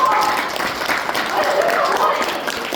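An audience applauds steadily at a regional development forum in Gunwi County, Daegu, the clapping dense and sustained throughout, with a speaker's voice running over it.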